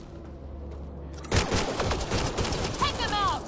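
Gunfire in the Mass Effect Andromeda game bursts in abruptly after a quiet stretch, a dense loud volley of rapid shots with voices and effects mixed over it.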